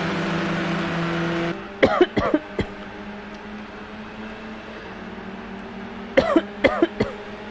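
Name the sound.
coughing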